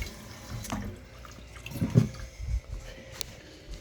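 Heated water pours into a cup, a short splashing, gurgling stream building and then trailing off, close by and fairly quiet against a soft room background.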